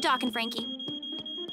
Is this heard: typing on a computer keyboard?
no